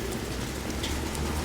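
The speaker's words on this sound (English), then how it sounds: "you can see it's raining very badly" Heavy rain falling in Istanbul, a steady broadband hiss of drops hitting the street, continuous and fairly close, with no talk over it.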